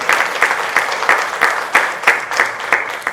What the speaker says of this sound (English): Let's give Victoria a round of applause today.